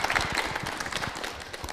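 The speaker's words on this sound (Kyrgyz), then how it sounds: "Кол чаап коелу." Audience applause at a live event in Kyrgyzstan, a dense wash of many hands clapping close up, steady and fairly loud throughout with no voices on top.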